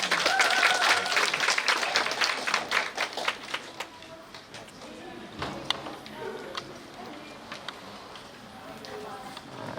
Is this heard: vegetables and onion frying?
no